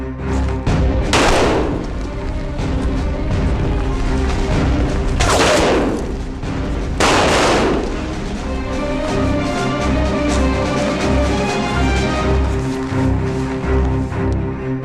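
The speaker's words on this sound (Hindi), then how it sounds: "अरे फायरिंग हो रही है" Heavy gunfire in an action-movie hostage raid, with loud booming shots and bursts over a constant rumbling score, several big blasts standing out early on.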